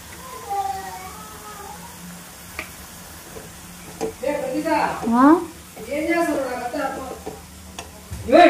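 Grated beetroot sizzles and is stirred in a frying pan for a Telugu beetroot fry, with soft scraping stirs and gentle frying noise beneath a voice.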